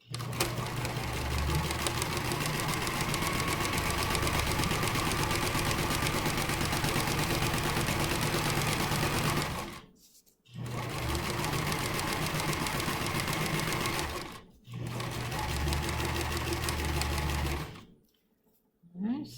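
A sewing machine stitches along a cloth napkin edge with mitered corners at a 3/8 inch seam, running in a fast, steady, close hum that stops three times for pivots, while someone talks over it.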